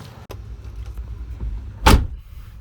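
A car passes on a quiet rural road early in the morning, swelling quickly into a brief close whoosh over low outdoor rumble before fading away.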